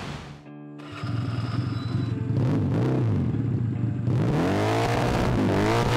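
A modified two-cylinder Honda motorcycle engine, built from Honda Spacy and Supra X 125 parts, barks into life and then revs hard in rising and falling sweeps, loud and close, with no talking.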